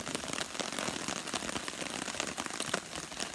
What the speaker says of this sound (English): But that is the sound of rain.